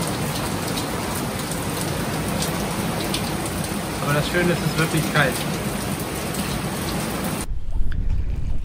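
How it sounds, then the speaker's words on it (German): Light rain falls steadily in the Caribbean around a sailboat at anchor, a constant close patter lasting most of the clip under a speaking voice, then cutting off abruptly near the end. "Leichter Regen in der Karibik."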